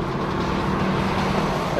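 Cabin hum from a front-wheel-drive car taking curves at around 140 to 150 km/h: steady engine, tire and wind noise in a continuous even drone.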